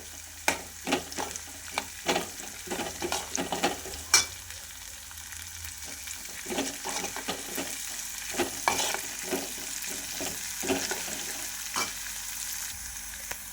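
Curry leaves fry with cumin and garlic paste in a pan for a potato and brinjal bhaji: a quiet, continuous sizzle broken by frequent sharp scrapes and taps of a stirring spoon, with no voices.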